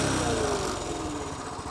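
A Honda CT110 motorcycle engine, freshly carburettor-tuned, revving briefly and dropping back toward a steady idle nearby.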